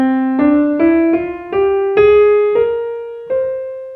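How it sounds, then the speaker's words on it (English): A Mixolydian flat 13 mode rising note by note, about seven clear sustained tones with sharp attacks and overlapping decay, played loudly and without any voices. "So that's the sound of your Mixolydian flat 13 mode."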